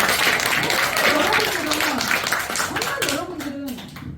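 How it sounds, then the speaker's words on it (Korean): An audience claps together at a Buddhist temple tea and health lecture, a dense, lively patter of applause that gradually thins, with a voice speaking over it. "박수 한번 쳐주세요"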